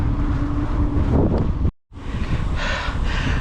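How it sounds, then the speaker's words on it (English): Strong, steady wind roars across the microphone of a bike ridden outdoors, a constant buffeting rush that drops out for a split second before gusting back just as loud. "the wind is starting to pick up"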